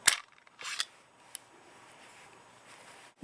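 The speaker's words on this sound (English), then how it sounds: "this magazine is drop free." An empty magazine drops free from a SIG P238 pistol with a sharp metallic click and slide, followed by a few lighter clicks and a quiet pause, close and alone.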